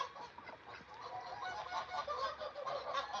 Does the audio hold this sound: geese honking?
yes